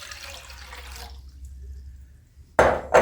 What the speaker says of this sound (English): I am going to pour my 4 cups of water into my pot,